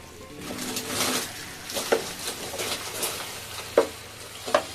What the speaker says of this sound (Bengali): এবার দেখুন এগুলোকে সব ভালো করে মিশিয়ে দিলাম